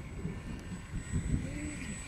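Ben Buckle Super 60 low-wing RC model plane on its maiden flight, flying in to land in a light crosswind, its small engine a faint steady drone in the distance.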